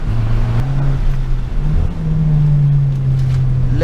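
An Abarth car with a 165 hp engine drones loudly and close, its pitch dipping and rising as the revs shift between gear changes, with steady road noise underneath.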